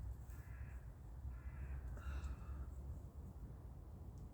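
Several crow caws ring out at moderate distance over a steady low rumble of background noise, spaced irregularly across a few seconds with no voices.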